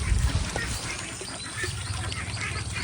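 Ducks being let out of their pen quack in a noisy, continuous outdoor chorus, with loud low rumbling at the start and no talking.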